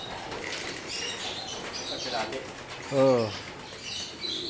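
Stock pigeons in a loft flutter their wings and coo at feeding time, with one clear coo standing out amid soft flapping, a short exclamation from a person and faint background noise.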